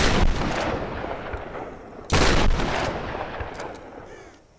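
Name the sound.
three shotgun shots in Tomb Raider video game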